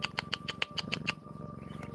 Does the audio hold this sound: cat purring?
yes